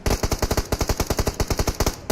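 Automatic gunfire in the battle royale game BGMI during a tournament final, a loud, rapid string of about twenty sharp shots in quick, even rhythm with a brief pause near the end.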